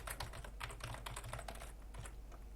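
Continuous computer keyboard typing, a fast steady stream of keystroke clicks heard up close with no talking.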